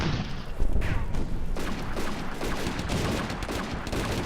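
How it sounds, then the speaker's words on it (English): Gunfire in the WWII desert battle game Combat Mission: Afrika Korps at Bir Hakeim, a rapid scattered crackle of rifle and automatic shots with a heavier thump early on, steady and fairly close. "they're shooting the Germans as they approach"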